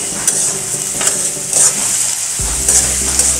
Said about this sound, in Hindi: प्याज को भी अच्छे से अपन भून लेंगे।